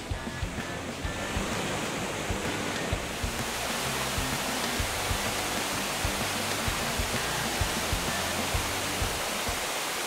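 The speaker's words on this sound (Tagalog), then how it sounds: "swerte kapag panahon ng amihan dahil malakas yung agos ng tubig sa waterfalls" Strong-flowing waterfall in Cateel, Davao Oriental, Philippines, swollen during the amihan season, a loud steady broadband roar of rushing water, close and unbroken, with no voices.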